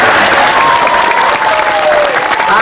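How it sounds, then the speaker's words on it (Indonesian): An audience at an anniversary comedy performance claps loudly and continuously in a close, dense burst, with a faint sustained tone running through it. "Tepuk tangan naik."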